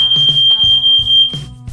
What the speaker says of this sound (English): this time all of my fire alarms went on, all 2 of them